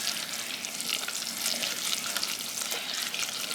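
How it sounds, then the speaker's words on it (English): Peanut butter stirred vigorously into hot, sizzling toffee for cracker toffee, a continuous bright frying hiss with soft scraping strokes of the spoon, close and steady, with no talking. "Now you want to stir that peanut butter in very vigorously until it melts."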